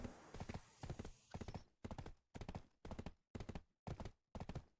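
Horse hooves clip-clop at a steady rhythmic gait in the video game Black Desert, close and fairly loud, with a brief whinny-like sound near the start and no talk over it.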